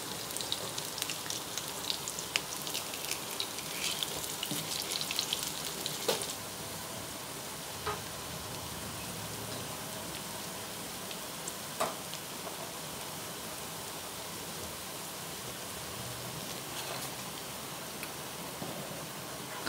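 Drumstick leaf fritters fry in hot oil with a steady, soft sizzle throughout, broken by a few faint clicks and bubbles, with no voices.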